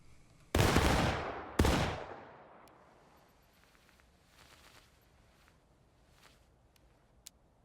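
Two loud rifle volleys crack out about a second apart in War of Rights, each a dense ragged burst of many shots that rolls off into a long echoing tail, followed by faint scattered clicks and distant noises.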